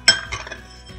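Spoonfuls of rice dropped into a bowl for rice-filled tomatoes, giving a sharp clink followed by a few lighter taps and a softer final knock, close and clear with no talking.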